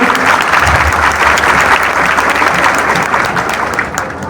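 Classroom audience applauding in a dense, continuous burst of claps that holds steady for several seconds before thinning slightly at the end.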